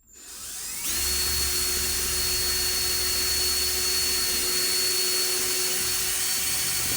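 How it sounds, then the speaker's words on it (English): A steady, loud whirring cordless drill with an 8mm bit drills continuously into plasterboard after a brief start, with no talking. "So I've got the 8mm bit in the cordless drill"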